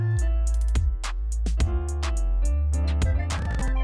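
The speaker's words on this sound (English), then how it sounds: "mallet sound, which sounds like" A mallet-style synth patch in Logic Pro X plays a rhythmic beat-remake section. Struck, pitched notes ring over a deep sustained bass with percussive hits, loud and clear without voices.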